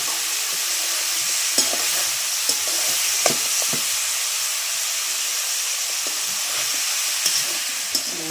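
Pumpkin vegetable curry cooking in a pan over a wood-fired chulha, giving a continuous loud sizzle and hiss with repeated scraping stirs and light clinks, close up and with no voices.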